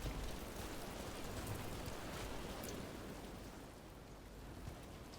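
Steady rain in Dragon Age: The Veilguard hisses evenly throughout, a dense wash of falling drops with no voices.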